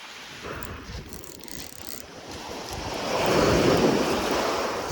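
Waves break and wash at a rocky shoreline where a feeding frenzy of fish churns the water close to shore, a steady broadband surf rush that swells louder toward the end, with no talk.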